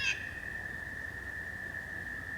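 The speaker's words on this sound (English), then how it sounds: "I think those are frogs." Frogs calling in the woods on a warm day make a continuous, even, high trilling drone in the background, faint and steady throughout, with no voices.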